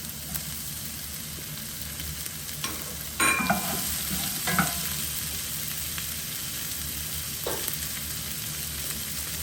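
Peppers and fennel sizzle steadily in a pan, with several louder scraping stirs and clatters of a utensil breaking through the constant frying hiss.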